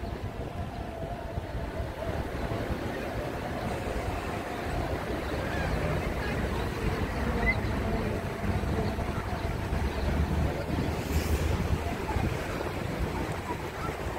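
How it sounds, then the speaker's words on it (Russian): Gusty cool sea wind at Izmir, Turkey buffeting the microphone beside the sea, a constant broad rush with a faint wash of surf underneath. "с моря идет прохладный ветер"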